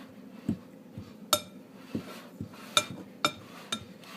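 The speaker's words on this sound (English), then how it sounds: "it just takes a few minutes to cut in your butter" Butter being cut into flour in a mixing bowl for buttermilk biscuits; a utensil clinks sharply against the bowl in a steady series of close, distinct taps over soft scraping, with no talking.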